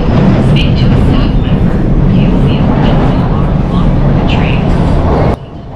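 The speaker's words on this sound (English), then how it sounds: "Fortunately, within a minute, another train is here." A Toronto subway train rumbles steadily into the station, a loud continuous roar of wheels and motors filling the platform, with faint voices in the background before the noise cuts off near the end.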